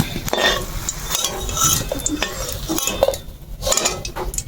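Fried pakoras being lifted out of a pan of oil, with repeated metal clinks and scrapes of a utensil against the pan over a faint sizzle, continuous and close.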